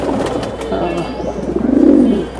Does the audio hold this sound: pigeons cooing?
yes